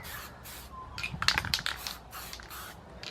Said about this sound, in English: So we're just spraying the toilet access door.